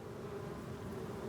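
Honey bees buzz steadily around hives in Paris, a dense continuous hum of many insects close by, with no voices over it.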